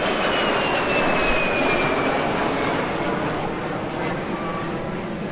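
De Havilland Vampire FB.52 jet passing at the Eastbourne Airshow, a steady broad roar of engine noise with a faint whine, loud and sustained throughout, easing slightly toward the end.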